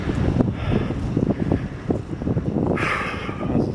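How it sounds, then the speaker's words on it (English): Wind blowing outdoors on a windy day, a steady rough gusting roar buffeting the microphone throughout, fairly loud, with no voices. "It's windy today."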